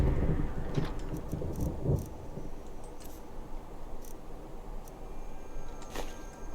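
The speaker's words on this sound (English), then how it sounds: "Nice thunder from Rustic Weathers." Skyrim Anniversary Edition with the Rustic Weathers mod: the tail of a deep thunder roll fades over the first seconds, leaving a low, steady rainy wash with a few faint ticks.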